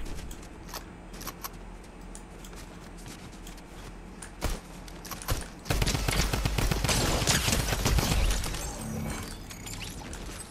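Gunfire in the Fortnite video game, with scattered sharp shots early on that give way to a dense, sustained burst of rapid fire. No one speaks.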